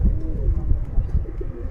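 Fancy pigeons on a rooftop pigeon farm coo in low, throaty rolling calls, close and continuous over a murmur of background noise.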